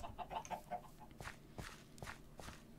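Several quick, soft clucks from chickens in a video game (Life in the Woods Renaissance) come in a short burst, then shuffling footsteps follow, all fairly quiet and close.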